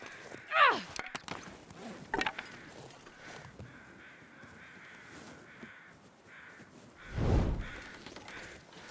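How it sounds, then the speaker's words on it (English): Crows in the game The Long Dark give a few sharp caws early on, then one loud close call later, over quiet outdoor ambience with faint footsteps. "I do hear more crows over this way."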